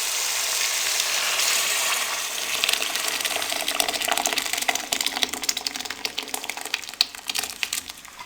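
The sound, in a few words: tempering (baghar) being added to boiled mixed dal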